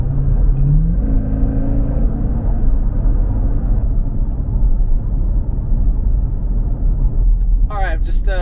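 A Jeep Grand Cherokee Trackhawk drives along with a loud, steady engine rumble and a rising supercharger whine early on, and a voice speaks briefly near the end.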